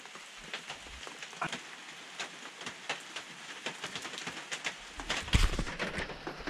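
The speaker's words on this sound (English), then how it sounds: "The rain is just pouring now." Rain pouring down on a remote off-grid cabin, a steady patter with scattered sharper drops hitting surfaces nearby, fairly soft and continuous with no talk.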